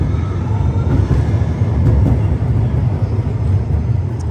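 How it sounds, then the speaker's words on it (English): A tram rolls through Munich's historic city centre in the evening, giving a steady, loud low rumble of wheels and motor that stays constant throughout, close by with no speech. "Ooh, here's the tram. Oh my god, how I love light rail."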